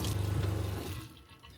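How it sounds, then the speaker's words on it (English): A campervan's water pump draws from a new water tank in the boot, giving a loud, steady low hum with running water for under a second before cutting out and leaving a quieter fade. "Then our pump will start drawing from our new tank."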